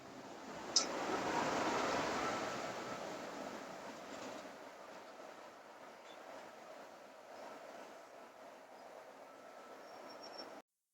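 Diesel locomotive 65.75 pulls away from Washford station on the West Somerset Railway. A soft rumble of engine and wheels swells briefly, then fades as the train moves off, with no voices.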